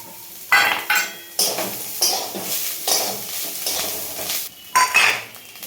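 Grated coconut fries in a pan with curry leaves, cashews and raisins, sizzling steadily while a spoon scrapes and clinks against the metal in repeated bursts of stirring, close and loud.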